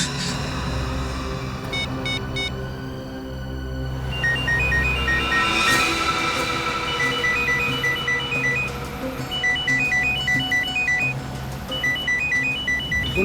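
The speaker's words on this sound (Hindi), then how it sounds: "अरे बज रहा है" A phone rings with a repeating electronic beeping tone, fairly loud and steady, over a low background hum in a tense police drama scene.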